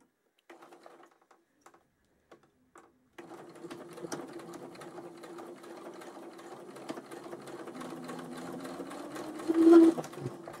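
A sewing machine stitches fabric to make a gather, starting with a few isolated clicks, then running in a steady rapid mechanical whir that grows a little louder before stopping.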